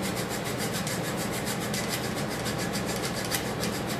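A quarter-inch wooden dowel rod is sawn by hand in a steady run of rasping back-and-forth strokes. The cutting sounds close and continuous, with no talking.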